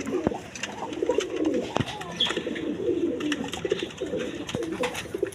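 A pair of Chuachandan pigeons coo nearby in soft repeated phrases, with scattered sharp clicks and rustles between the calls.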